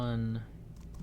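A short burst of voice gives way to a few soft, close taps on a computer keyboard as a MATLAB command is typed.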